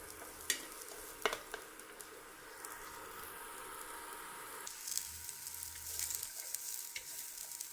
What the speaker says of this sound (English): We can just put in our asparagus in there and give a little stir.